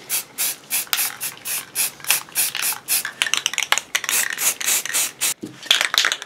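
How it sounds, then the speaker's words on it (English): Short bursts of Rust-Oleum gray primer from a rattle can, sprayed in light coats onto prop helmet parts, hiss in a steady rhythm of about a dozen close, fairly loud pulses with brief gaps between them. "we're gonna go ahead and primer these guys gray using Rust-Oleum gray primer"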